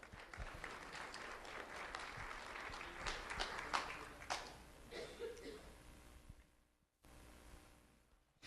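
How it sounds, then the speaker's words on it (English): Audience applause for an award recipient at a sheriff's office school recognition event, a dense wash of clapping sustained for several seconds before tapering off, fairly distant, with brief voices mixed in. "Let's have a round of applause for Manila."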